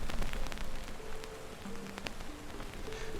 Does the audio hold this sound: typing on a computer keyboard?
no